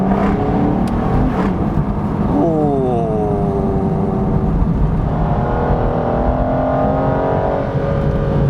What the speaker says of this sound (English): Let's just tease the throttle up this hill